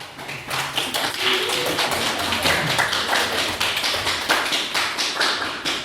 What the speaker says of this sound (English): Pretty weak applause like that.